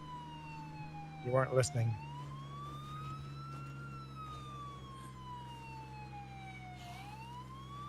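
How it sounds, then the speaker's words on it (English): Ambulance siren in a zombie video game, a wailing tone slowly rising and falling across the whole stretch, with a brief voice speaking over it near the start. "if he has the siren and lights on, it's on the ambulance in game, he attracts more zombies"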